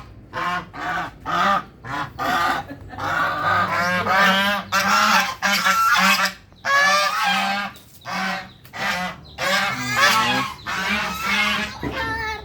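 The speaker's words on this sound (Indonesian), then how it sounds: "Angsa." Repeated loud goose honks, harsh and nasal, coming in quick bursts and overlapping calls close by.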